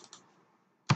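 A few quick taps on a computer keyboard while entering code in RSLogix 500 PLC software: two soft keystrokes, a short pause, then one sharper, louder key press, close and otherwise quiet.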